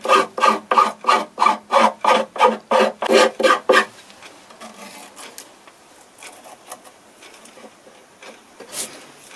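A metal file rasps rhythmically against a broken shovel under repair, about a dozen close, loud strokes at a steady pace, then the filing stops and only faint handling noises remain.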